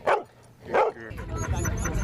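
A therapy dog at a visiting event barks twice in quick succession, close and fairly loud, followed by a steady low background murmur.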